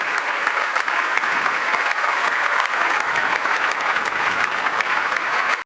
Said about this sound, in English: it fills the gap with loud applause and cheering